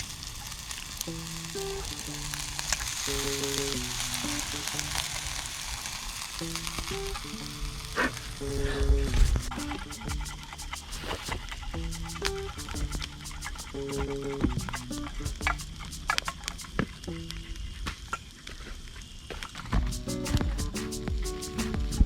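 Breaded chicken drumsticks sizzle steadily over a charcoal grill, a continuous close crackle with sharp pops and occasional knocks layered over it, and no one speaking.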